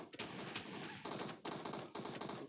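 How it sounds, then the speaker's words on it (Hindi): Shotgun blasts in the PUBG video game fire in quick succession, several sharp booming shots with short gaps, heard at low overall volume with no talk. "अबे यार शॉटगन से ठोक रहा हूँ यार सबको"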